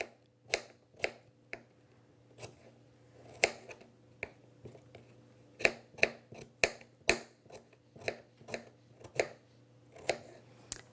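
A knife chops firm radishes on a cutting board in a steady run of crisp, sharp taps, some quick and doubled, close and clear over a low steady kitchen hum.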